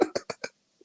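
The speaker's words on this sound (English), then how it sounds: "I'm going to have to cough." A man gives four quick, close coughs in a steady row, then falls silent apart from a faint click.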